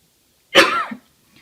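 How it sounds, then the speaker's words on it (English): A single sharp cough, loud and close, with a short rough tail, followed by quiet. "I still have a little bit of a cough"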